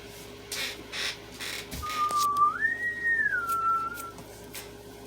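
A person whistles a single sustained, wavering tune that rises and then settles, fairly clear against a quiet room with light background noise.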